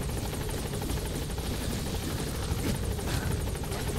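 Support helicopter arriving in the video game MGSV: The Phantom Pain: a loud, steady rotor whir with a rapid chopping pulse that holds evenly for the whole four seconds, close and dominant with no talk.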